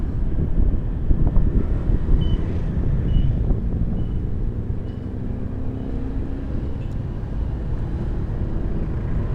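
Steady wind buffeting the microphone on a hot road trip toward Tanza, Cavite, a low continuous rumble with a faint vehicle hum underneath, loud and close throughout.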